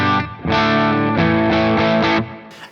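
Electric guitar played through a REVV G3/G4 pedal on a cleanish setting with amp reverb: a few sustained chords ringing out loud and alone, slightly overdriven, then a brief pause.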